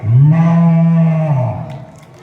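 A person imitates a cow during a speech at a school sports day, giving one long, loud, low moo that fades out at the end.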